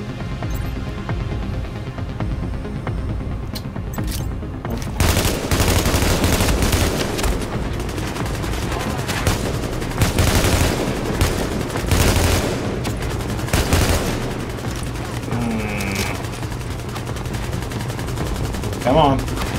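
Sustained gunfire in Tom Clancy's The Division, dense overlapping automatic bursts and sharp shots rattling loudly and continuously, with someone talking over parts of the fighting.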